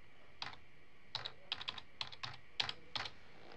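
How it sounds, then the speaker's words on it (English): Password being typed on a computer keyboard: a quick series of light, close key clicks in short bursts, quiet against a soft room hiss, with no talking. "I'll have to enter in my password."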